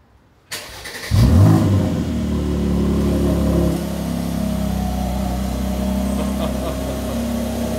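A cold Mercedes-AMG car starts up and revs once loudly, then settles into a steady, throaty idle that drops a little lower partway through, close by with no talking.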